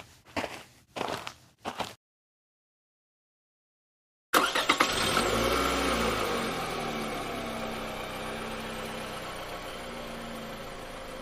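Footsteps and shuffling come first, then a short silence, after which a car engine starts abruptly and runs steadily, building into a sustained drive-off hum.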